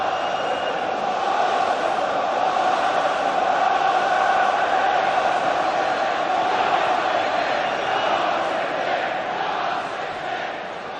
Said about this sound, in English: Good crowd here